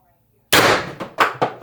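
An X-68 CO2 air gun running on three 12-gram CO2 cartridges fires, giving a sharp, loud crack after a short silence, followed by a couple of quick metallic clacks and a further snap.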